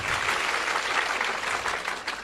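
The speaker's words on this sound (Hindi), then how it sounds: "सवाल के लिए तालियां बजाइए" An audience at a religious Gita discourse claps in a steady, dense round of applause that carries on unbroken throughout.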